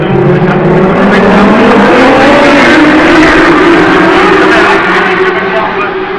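Race cars roar past on a stadium oval track during a live race, engines loud and sustained, rising in pitch as they accelerate out of the back straight.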